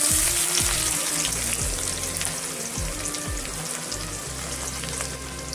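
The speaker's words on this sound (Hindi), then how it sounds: "तो फ्रेंड्स इसी तेल पे थोड़ा सा जीरा ऐड कर देंगे, थोड़ा सा लहसुन ऐड कर देंगे और ये प्याज भी ऐड कर देंगे।" Cumin seeds, garlic and onion fry in hot oil for a lettuce sabji, a loud, steady sizzle and crackle close up, with the scrape of stirring now and then and no voices.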